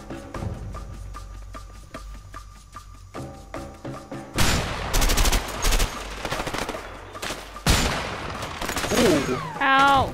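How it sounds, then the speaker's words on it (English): Heavy gunfire in A Way Out, starting with sparse sharp shots over quiet game ambience, then erupting into loud dense automatic bursts and booming impacts, with a brief voice-like sound near the end. "Getting pretty heavy fired on."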